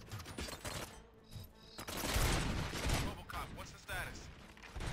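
A dense, noisy burst of gunfire erupts in Robocop: Rogue City, rattling in rapid volleys with thumps and mechanical clatter, loud and sustained across the scene.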